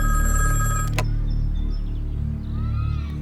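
A telephone rings in a Tamil thriller film scene, a loud electronic bell tone with a sharp click near the start, over a low steady hum with faint chirps and no speech.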